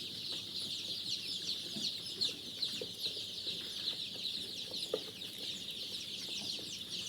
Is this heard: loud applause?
no